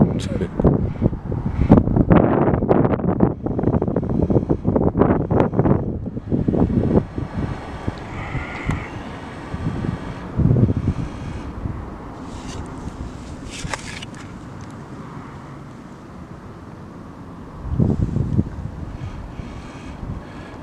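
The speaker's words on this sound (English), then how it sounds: "And there goes the wind." Outdoor wind buffeting a microphone: gusty rumbling, strongest early on, then easing into a lighter rustle, with another brief gust near the end.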